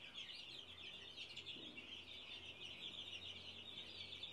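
A batch of chicks peeping constantly while eating, a faint, dense, high-pitched chatter that carries on without pause.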